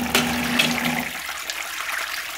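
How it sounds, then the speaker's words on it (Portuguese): Water rushing into a small homemade hydroelectric plant that had been clogged, a steady close splashing flow with a low hum in the first second that then drops away, leaving the water alone. "Ó, ali é a água que vem, né?"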